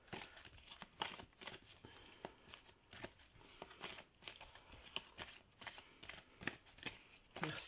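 Oracle de la Lune oracle cards are shuffled continuously, a steady soft riffling and flapping of cardstock close up, with no talk over it.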